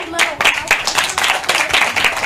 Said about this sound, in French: on va dire merci aux parents en applaudissant très très fort